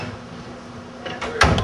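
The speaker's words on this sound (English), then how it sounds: "Shut the door, Carl." A door being shut indoors during a casual get-together, a quiet rustle followed by a couple of short, firm knocks and a thud as it closes.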